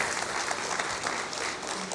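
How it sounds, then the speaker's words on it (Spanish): A church congregation breaks into sustained applause, dense overlapping clapping filling the room evenly for the whole moment, with no voices standing out. "des un aplauso el día de hoy por estar aquí"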